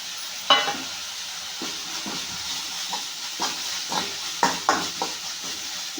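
Turmeric fries in hot oil in a pan for a North Karnataka palya, giving a soft, steady sizzling hiss with repeated scraping stirs of a spoon against the pan, no voices.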